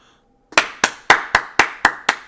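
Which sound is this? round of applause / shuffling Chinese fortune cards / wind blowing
round of applause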